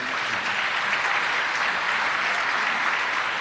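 At a doctors' oath ceremony, an audience claps in sustained, dense applause. The level stays even throughout.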